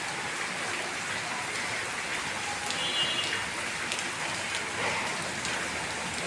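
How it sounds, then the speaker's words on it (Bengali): Steady rain falls in Bangladesh near a mango tree, with waterlogged ground around. The wash of drops is even and moderate, with a few brighter splashes nearby, and no talking. "বৃষ্টি পড়তেছে এখনো।"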